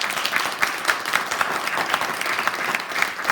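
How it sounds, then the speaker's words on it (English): A crowd applauding speakers steadily, dense overlapping claps filling the room at moderate loudness with no voices on top. "Let's get a round of applause for the speakers."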